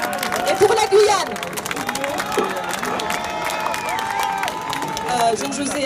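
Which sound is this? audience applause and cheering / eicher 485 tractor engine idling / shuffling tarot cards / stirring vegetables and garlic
audience applause and cheering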